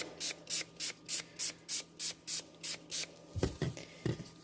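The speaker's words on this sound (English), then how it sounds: "And let's give this a spray with some rubbing alcohol." Around ten quick trigger-sprays of rubbing alcohol mist onto the top of a cold process soap loaf decorated with little soap-dough books, evenly paced and close, followed by a few soft handling rubs.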